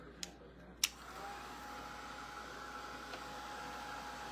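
A hair dryer blows on wet paint on a hand-painted sign, a steady close whooshing hum that runs throughout, opened by a couple of sharp clicks as it switches on.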